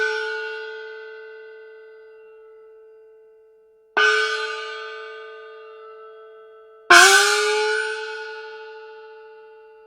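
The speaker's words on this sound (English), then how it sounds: "one of the reasons we call it a bender gong is because if I hit it kind of loud, you'll hear the pitch bend upwards" A Chinese bender gong struck three times, each hit blooming into a long shimmering ring; the later, harder strikes are louder and the tone bends upward in pitch before sustaining and slowly decaying, with no voices.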